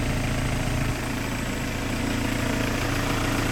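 A car engine idles steadily during a clutch replacement, a close, continuous low rumble with a constant mechanical hum and no pauses.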